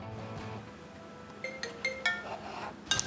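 A phone ringtone chimes in a tattoo studio, a series of bright melodic electronic tones repeating in short bursts over a low background hum, fairly close and moderately loud.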